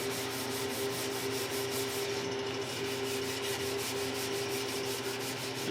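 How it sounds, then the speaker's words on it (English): A Les Paul guitar kit's wooden body is hand-sanded with the fingers, giving a steady, quiet, rhythmic rubbing rasp with no voices. "if it looks like I'm sanding with my fingers, I am"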